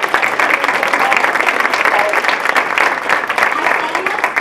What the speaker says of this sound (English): Please just help me welcome with just a round of applause